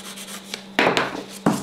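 A gel nail edge is filed and smoothed by hand, giving three short scratchy rasping strokes, close and distinct, after a quieter opening rub.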